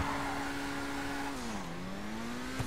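GTA Online car engine revving steadily during a mid-drive burnout speed boost, the pitch dipping briefly then climbing again, loud and continuous with no talk.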